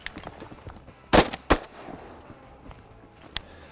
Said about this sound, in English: Let's shoot these two right here, guys.